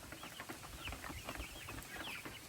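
Rhode Island Red parent-stock breeder chickens, about 57 days old, cluck and chatter busily at their feeder, a dense, faint flock murmur of overlapping short calls with no talking.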